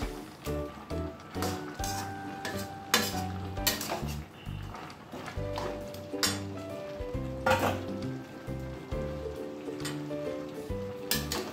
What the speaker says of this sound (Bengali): এবার এটা নাড়াচাড়া করবো